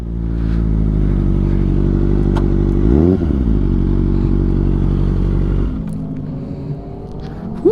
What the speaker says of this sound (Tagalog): Ang ingay ng motor nila